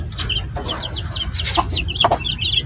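Five large chicks in a backyard coop chirping and clucking close up, a busy run of repeated high cheeps with a few lower clucks over a faint background hum, no talk.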